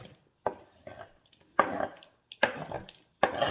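Shredded cabbage, peppers, onions, corn and garlic drop into a bowl in four separate rustling, thudding bursts, close and fairly loud, with quiet gaps between them and no talking.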